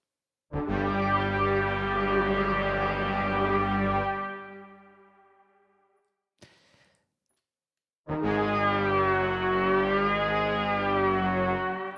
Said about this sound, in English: in vibrato mode, it will affect directly the pitch of the sound